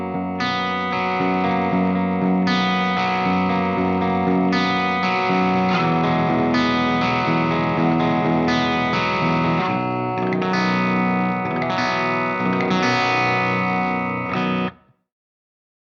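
An Ibanez AS7328 baritone guitar on a clean setting through an FM9 unit, played loosely in ringing, overlapping notes and chords with a soft effect wash, then stopping abruptly near the end.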